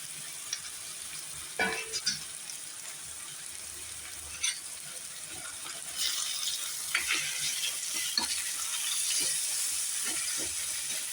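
Raw mango pieces sautéing in sesame oil for mango thokku, a steady close sizzle with scattered stirring scrapes and clinks, growing a bit busier partway through.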